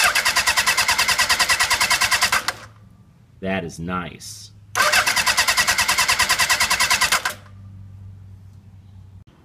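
A 1975 Honda CB750 K5 motorcycle engine cranks and fires on a newly replaced starter motor, idling loudly with a steady rapid pulse, cutting out briefly while someone speaks, then restarting and running before dropping to a quieter tone.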